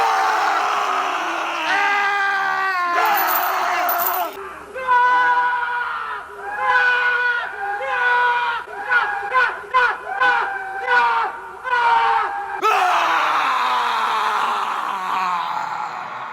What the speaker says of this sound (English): Both of the men have a screaming match